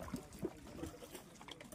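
Water trickles and pours over bulls being washed ahead of a bullock-cart race, a faint, soft splashing with a few brief louder gushes, low and steady throughout.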